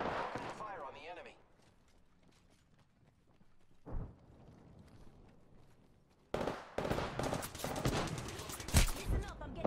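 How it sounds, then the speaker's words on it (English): Gunfire during an Apex Legends match, bursts of rapid shots in the later part after quieter stretches with a single sharp report midway, fairly close and loud, with voices talking over parts of it. "Listen up, I'm getting shot at."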